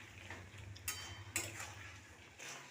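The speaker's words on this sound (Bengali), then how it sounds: "বড়িটাকে দিয়ে ভালো করে মিশিয়ে নেব" A spoon stirs fried bori into khosla greens curry in a pan, with soft scrapes and a couple of sharper clinks against the metal over a faint low background, and no voices.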